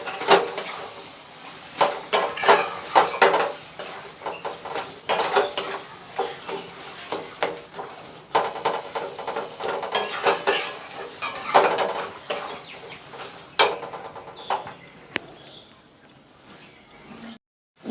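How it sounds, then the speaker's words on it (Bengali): A spoon scrapes and clatters in a pan while spice paste with green chilli and chopped tomato is sautéed, giving a steady rhythmic rattle over a soft sizzle. "এবারে দিয়ে দেবো কেটে রাখা টমেটোটা। ভালোভাবে আবারও আমি মশলাটা কষিয়ে নেব।"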